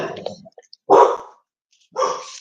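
Dogs bark indoors in a few separate outbursts, one loud bark standing out between softer yips and short gaps of quiet.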